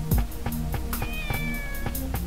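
A kitten meows in the Shenmue video game, a rising high-pitched cry near the start and then several more, heard over steady game music with a low hum and rhythmic beats.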